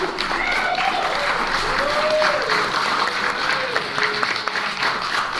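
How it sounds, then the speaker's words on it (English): A crowd at the A-Kon 27 convention panel claps steadily and loudly throughout, while voices and a few shouts or whoops rise above the sustained applause. "Clap your hands for Danganwrestling."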